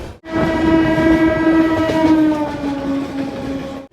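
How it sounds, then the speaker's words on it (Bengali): A train pulls in to Santragachi station, a long steady horn blast sounding loud and close for nearly four seconds over rumbling wheels. "আমাদের ট্রেন ঢুকলো সাঁতরাগাছি"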